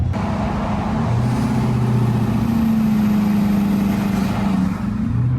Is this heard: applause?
no